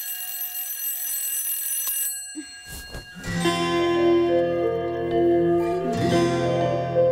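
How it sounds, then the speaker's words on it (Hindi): A ringing alarm clock in a home, a sustained buzzing tone that drops out partway through before a louder, fuller ringing takes over and continues to the end. "ये अलार्म अपनी बेटी को उठाने के लिए लगाया है या पूरे मोहल्ले को?"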